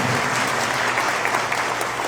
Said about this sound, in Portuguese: Então aplauda o Senhor mais uma vez,